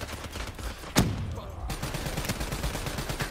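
Bursts of rapid gunfire ring out in a Call of Duty Black Ops III match, one sharp loud crack standing out early amid a continuous stutter of shots and rumbling game noise.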